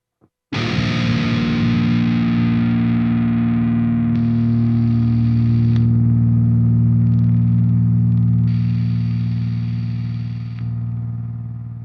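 Heavily distorted electric guitar pitched down, one low chug ringing out and sustaining with a processing effect engaged, loud and dense with a thick low-end roar, no talking.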